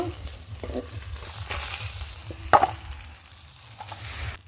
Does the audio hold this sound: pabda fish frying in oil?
yes